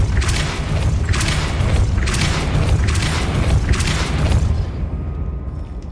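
Depulso repelling spell cast in Hogwarts Legacy, a run of four loud, booming magical blasts in steady rhythm over a dense rumbling bed, the last fading out abruptly.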